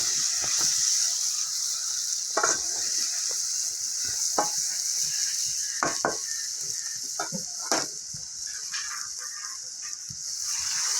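Fried potatoes sizzle steadily in a pan while sugar is stirred in, with scattered scrapes and knocks of a spoon against the pan and no talking.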